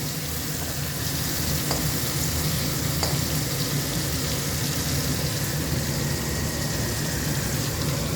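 Steady, loud sizzling of a potato greens curry frying in a pan, continuous throughout with faint stirring scrapes and no talking.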